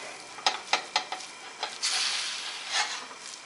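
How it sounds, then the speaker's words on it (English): Ground beef fries in a pan over medium heat, a steady sizzle broken by a few sharp scrapes and stirring knocks early on, close and fairly loud with no voices. "Start frying the beef over medium heat."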